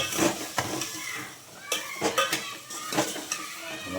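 A spoon stirs pea and potato curry in a metal pot, with scraping clinks and soft knocks against the sides over a faint sizzle, close and fairly quiet.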